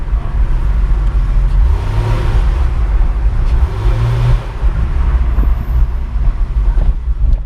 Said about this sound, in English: That's all engine noise.